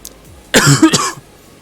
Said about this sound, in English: That little residual cough still is there.